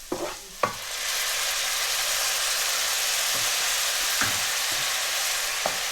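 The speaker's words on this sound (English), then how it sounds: "And quick frying, about 10-15 seconds, should not take longer" Steady, loud sizzling of onions frying in hot oil, with a few soft clinks and scrapes of a utensil stirring in the pan.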